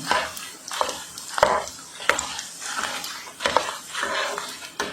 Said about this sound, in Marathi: व्यवस्थित असं डिंक छान परतून घ्यायचं आहे